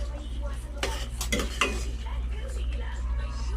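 Chicken curry is stirred in a pot, with quiet scraping and a few clinks of a utensil against the metal as a low background hum runs underneath.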